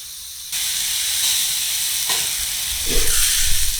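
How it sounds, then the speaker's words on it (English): Steaks sizzle and hiss steadily in a hot pan, a loud, continuous frying crackle with a brief quieter start and a few louder bursts near the end, no voices. "Steaks have been cooking for about 8 minutes"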